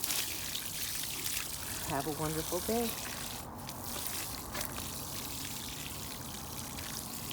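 Water poured over young tomato plants in a spring garden, a brief trickling, splashing run near the middle under steady outdoor background noise, with a person talking briefly.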